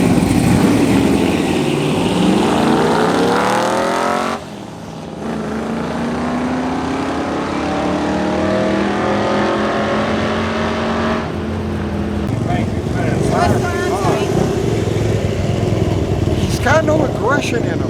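A race car with a raised shift-light RPM and raised torsion bars launching down the track at a night race meeting. A loud engine roar climbs through repeated rising sweeps with gear changes, and people talk over it.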